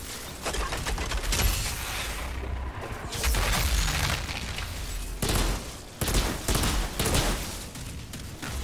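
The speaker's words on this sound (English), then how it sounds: "I like this auto sniper though." Rapid automatic sniper rifle fire in the shooter game Outriders, loud dense volleys of shots in bursts with brief pauses, crackling and booming throughout.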